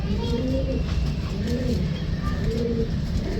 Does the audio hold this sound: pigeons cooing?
yes